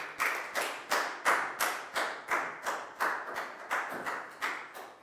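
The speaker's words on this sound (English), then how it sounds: "High five and a big round of applause for Chew, please, guys." Sharp, even claps repeating in a steady rhythm of roughly two per second, about eleven in all. Each burst is crisp and fairly loud and decays quickly, with no voices over it.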